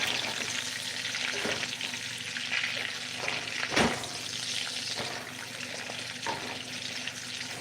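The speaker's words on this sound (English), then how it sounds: "Gonna let the bacon burn." Bacon fries in a pan with a constant close crackle and sizzle, with a few louder pops and scrapes along the way.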